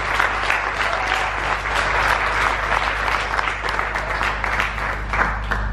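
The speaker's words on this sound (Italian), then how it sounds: "Un bel applauso, facciamolo di incoraggiamento." Steady, dense applause from a rock concert audience, loud and sustained throughout with a constant low hum of the venue's sound system underneath.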